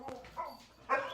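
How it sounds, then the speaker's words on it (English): A neighborhood dog barks a few times outside. The short barks are faint and distant, heard from indoors, and no one speaks over them. "There's a neighborhood dog outside there."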